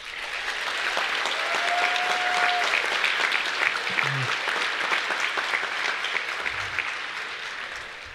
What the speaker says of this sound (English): So applause for the community.